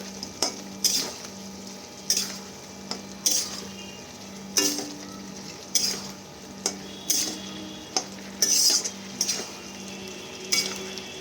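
Potato and cauliflower curry being stirred in a pan, a utensil scraping and clinking against the metal in a steady rhythm of about ten strokes over a soft background sizzle, close and alone.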